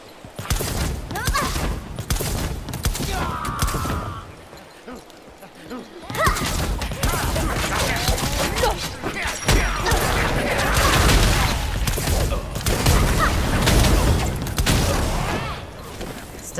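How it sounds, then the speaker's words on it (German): Enemies firing on the player in the game Lost Ark, a loud sustained fusillade of rapid shots and booms running almost continuously under a man's speech, with a brief lull before the barrage resumes. "Schießen die einfach auf mich"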